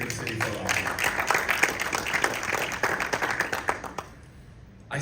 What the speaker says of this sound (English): To Tila and Elaine, round of applause for them.